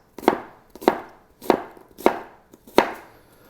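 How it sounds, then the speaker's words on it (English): A knife chops sweet potato slabs into sticks on a cutting board, with five sharp, evenly spaced chops landing close and loud, with no talking. "I'm going to give them one cut that way, one cut that way, and now I've got sticks."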